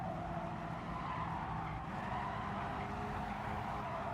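A race car in Gran Turismo Sport braking hard at Willow Springs: a steady, dense engine roar mixed with tire scrub, constant and fairly close, with no talking.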